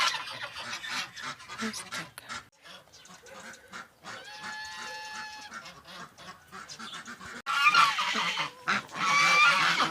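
A flock of geese in a Ukrainian village yard honks and cackles noisily nearby, the calls overlapping and growing louder toward the end.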